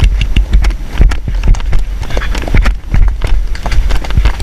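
A horse trots along a woodland track, its hooves thudding in a quick, steady rhythm, loud and close, with the rider's steady movement adding to the dense beat.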